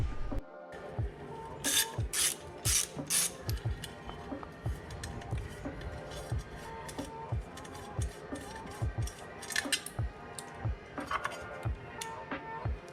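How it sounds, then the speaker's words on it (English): Ratchet and wrench work on the valve cover bolts of an EF sedan's B20B engine during a tune-up and gasket change, giving repeated close metallic clicks and clinks in irregular bursts, with no talk. "A ratchet, a couple wrenches, spark plug socket, 10 mil and 3/8 for these valve cover bolts"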